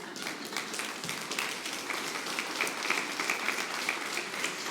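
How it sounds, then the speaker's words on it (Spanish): A church congregation claps steadily and loudly together, a dense continuous patter of many hands filling the space. "Dele un aplauso al Señor fuerte."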